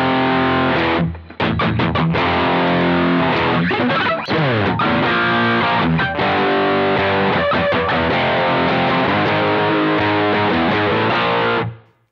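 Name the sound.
guitar through Boss ME-90 distortion effect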